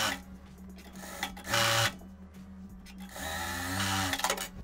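Sewing machine stitching a simple straight hem on the back of a knit skirt, running close in rhythmic bursts of rapid needle chatter with short pauses between runs.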